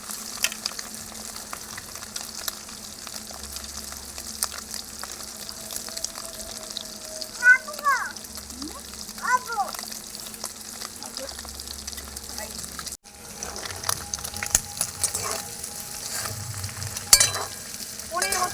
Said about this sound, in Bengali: এবার এগুলো ভেজে নেব তেলটা গরম করে নিয়েছি